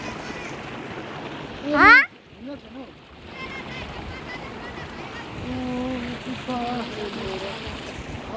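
A village river rushes steadily, splashing continuously close by, while people talk over the flow before bathing.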